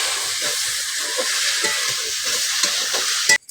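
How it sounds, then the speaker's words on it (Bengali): Pui shak leaves being stirred in a pan with a little oil, continuous bright sizzling and hiss with soft scraping strokes of the spoon, close and alone, ending abruptly. "একটু নেড়ে দেব।"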